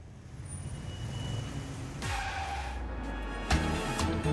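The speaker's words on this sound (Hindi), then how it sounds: "अरे चिता, गाड़ी रोको।" A car brakes hard and skids to a halt, with a squealing slide rising over engine rumble, then a sharp thump as it stops close by, and no voices.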